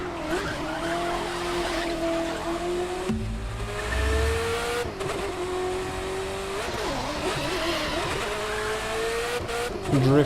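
A car drifting in the racing video game The Crew 2, with engine revving and sustained tire squeal sliding up and down in pitch, loud and continuous over a full-on engine drone.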